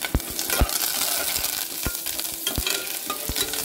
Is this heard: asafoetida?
yes